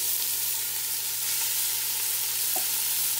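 Steady hissing sizzle of ground beef frying in a hot pot, with a low hum underneath and a brief scrape near the end.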